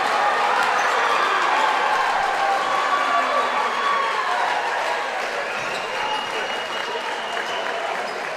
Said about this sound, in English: Round of applause for both of these teams playing to their strengths.